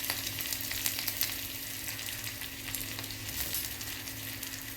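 Mustard seeds splutter in hot oil for Kerala aviyal, a faint, steady crackling sizzle with scattered sharp pops, fairly quiet and continuous with no voices.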